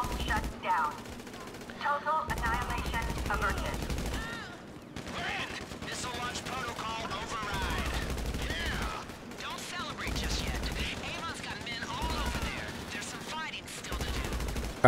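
Gunfire fills a heist shootout in the video game Criminal Mastermind 3, with dense bursts of rapid shots and scattered single cracks, loud and close, recurring throughout with short gaps.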